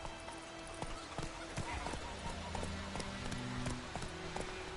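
Horse hooves clip-clopping at a gallop in the Witcher 3 video game, a steady rhythmic beat under game music, with a brief whinny and a voice speaking over it.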